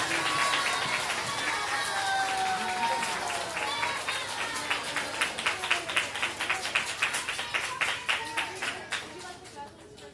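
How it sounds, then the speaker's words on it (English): Audience at a Shreveport Opera children's performance applauds and cheers, with whoops and bravo-like shouts over dense clapping that grows into a sharper, rhythmic patter before fading slightly near the end. "Give yourselves a big round of applause and a big bravo."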